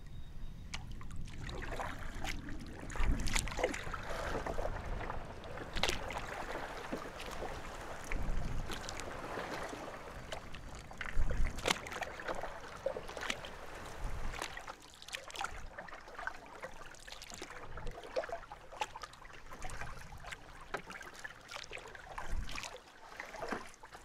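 Canoe paddling on a calm lake beside a burned-out forest: soft watery strokes and drips repeat at a steady rhythm near the boat, with faint wind and no talk.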